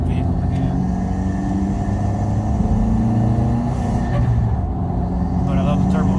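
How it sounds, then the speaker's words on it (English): A turbocharged car engine drones with a deep, continuous rumble, rising slightly as it revs, heard close from inside the vehicle. "But I love the turbo sound."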